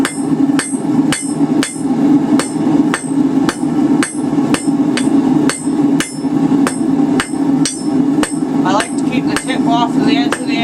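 Rounding hammer drawing a taper on hot steel over an anvil while forging a drive hook, steady ringing strikes about twice a second, loud and close, with a faint voice near the end.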